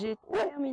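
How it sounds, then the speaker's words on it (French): A neighbour's dog gives a couple of quick, close barks and a whimpering yip, brief and fairly clear, with a few spoken French words overlapping. "pardon pour le chien du voisin"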